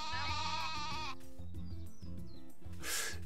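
A sheep in the farming video game Story of Seasons: A Wonderful Life gives a loud, wavering bleat, followed by a shorter one near the end, over bouncy background game music.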